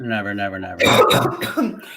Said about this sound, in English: I can taste blood in my mouth from that cough